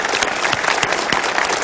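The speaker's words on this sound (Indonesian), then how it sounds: "Kita berikan tepuk tangan untuk Hedi Yunus." A studio audience at a televised talk show applauds steadily, a dense, loud wash of clapping with no talk over it.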